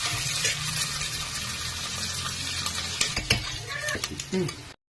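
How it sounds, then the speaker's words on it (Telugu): Curry leaves frying in hot oil in a pan, a dense steady sizzle with crackles and a few clattering stirs toward the end before it cuts off, close and without talk. "కరివేపాకు కూడా ఇందులో వేసాను. బాగా కొంచెం బ్రౌన్ కలర్ వచ్చే వరకు వేపుకుందాం."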